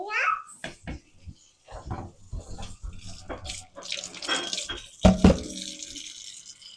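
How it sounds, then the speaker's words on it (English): Water is poured into a pot of cooking corn for hominy, splashing and trickling in short bursts with one louder pour, under intermittent talking nearby. "I'm going to add some more water to this."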